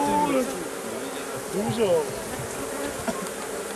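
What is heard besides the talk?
honeybees buzzing around an opened hive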